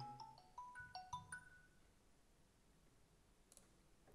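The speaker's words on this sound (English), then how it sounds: "sorry for the phone call." A phone's ringtone chimes in a short run of bright melodic notes, quiet and fairly close, then fades to near silence before a brief click at the end; no one speaks.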